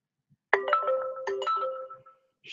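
A mobile phone ringtone sounds close and clear, a melodic burst of tones lasting under two seconds, followed by a brief pause and the start of another ring.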